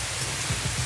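Rain effect in the MiniWorld video game, a dense even hiss of falling drops with low thumping rumbles underneath, heard briefly with no talk.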